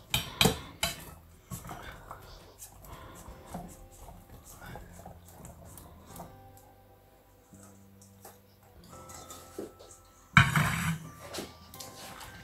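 New potatoes, carrots and celery tumble into a pan, giving a few clattering knocks and scrapes of vegetables against metal, with a louder burst of clatter near the end amid light kitchen handling.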